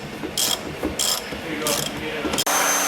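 A ratchet wrench clicks in several quick, close bursts while tightening bolts during a TruHart Racing coilover install on a 2000 Honda Civic, with brief pauses between strokes.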